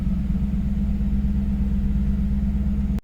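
A luxury coupe with a troubled transmission idles and pulls away, a steady low engine hum close by with no talk, ending in a sharp brief click.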